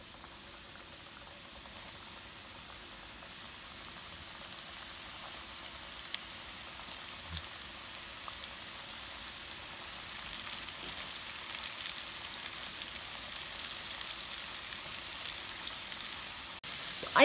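Chicken pieces fry in hot oil with a steady bubbling crackle that slowly grows denser and louder, ending with a sharp knock.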